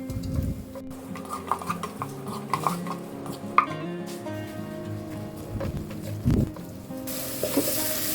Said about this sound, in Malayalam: ഇനി നമുക്ക് ഒരു ചെറുതായി എരിഞ്ഞ 2 മീഡിയം സൈസിലുള്ള ഉള്ളി ഇട്ട് കൊടുക്കാം. ഇതൊന്ന് വാട്ടിയെടുക്കാം.